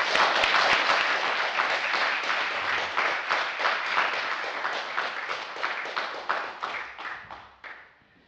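Sustained audience applause welcoming keynote speaker Professor Gayatri Spivak, a dense wash of many hands clapping that holds steady for several seconds, then thins out and fades away toward the end.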